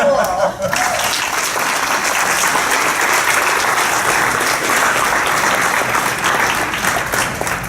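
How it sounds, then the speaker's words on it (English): Audience applause greets a keynote speaker at a 2018 event, steady and dense clapping from a large crowd filling the whole span at close range. "Would you help me welcome Raul?"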